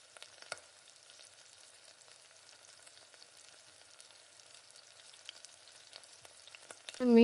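Fish frying in oil in a pan for a village-style masala fish fry, a soft steady sizzle with faint crackles, ending in a sudden louder burst.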